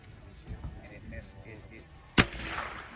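A single sharp, loud rifle shot rings out at a PRS precision rifle match, fired at a steel target, preceded by faint talk and followed by a brief echoing tail.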